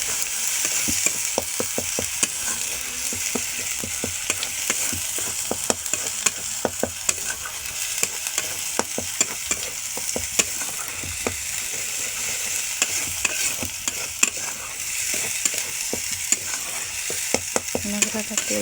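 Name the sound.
poppy seed and cashew paste frying in oil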